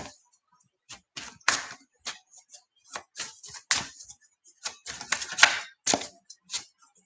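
Tarot cards being shuffled in quick irregular bursts, crisp riffling snaps and slaps with short pauses between, close up.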